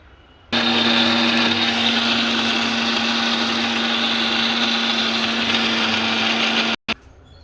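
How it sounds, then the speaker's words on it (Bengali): Kitchen blender grinding baby food, a steady loud whirring motor running nonstop for about six seconds, then cutting off briefly and restarting for a moment, close with no talk. "এই ঢাকুনটা লাগিয়ে আমি এটাকে গ্রাইন্ড করে নেব।"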